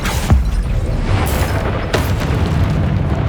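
A Confringo spell blast from the Hogwarts Legacy video game: a sharp explosive boom with crackling bursts, followed by further blast hits, loud and close over a continuous low rumble.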